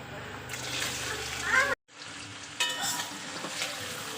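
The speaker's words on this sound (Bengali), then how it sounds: "তেলটা গরম হয়ে গেছে এবার আমি দিয়ে দেব গাজর কাটাটা" Cut carrots hit hot oil in a pan for fried rice and crackle into a steady sizzle, broken by a brief silent gap, with a voice speaking softly underneath.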